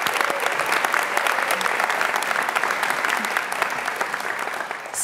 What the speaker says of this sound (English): please join me in a big round of applause